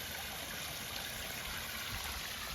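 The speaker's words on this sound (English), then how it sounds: "We have a 24-inch spillway on this side and a 12-inch spillway over here." Water pours steadily over two stone spillways, 24-inch and 12-inch, of a pondless front-door waterfall, a constant close rushing splash with no pauses.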